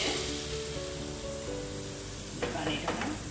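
Rice batter for kozhiyappam sizzles on a hot nonstick pan, a steady close frying hiss that holds through the clip under a faint background hum, with a brief voice-like sound near the end.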